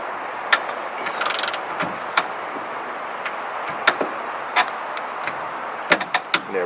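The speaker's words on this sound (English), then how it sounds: "When you hear the click on the torque wrench, that means your torque setting." A torque wrench tightens a bolt on an Andersen trailer hitch, making scattered sharp ratcheting clicks and a brief rapid burst of clicks over a steady background hiss, with no talking.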